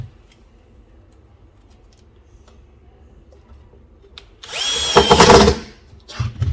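A power drill drives screws into a wooden storage cabinet frame in one short, loud burst near the end, after several seconds of quiet room tone.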